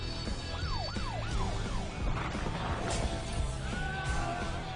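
A fire truck siren wails up and down in repeated sweeps, loud over a rumbling background of traffic and street noise.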